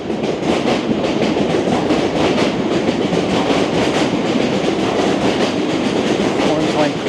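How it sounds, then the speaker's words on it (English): A Boston MBTA Orange Line subway train with new cars rushes past outdoors, loud and steady with a constant roar of wheels and rail for the whole stretch. "Here goes the Orange Line train, you can see it."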